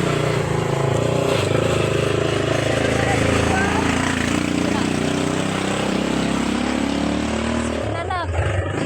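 A motorcycle engine drones close by and fairly loud on the way to church, a steady roar filling the whole stretch while voices talk over it.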